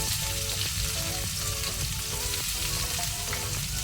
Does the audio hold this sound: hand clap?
no